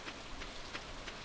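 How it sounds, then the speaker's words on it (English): Soft, steady rain patters in the Stardew Valley farming game, a faint continuous hiss of falling drops with slight rhythmic swells and no voices. "Oh, it looks more interesting in the rain."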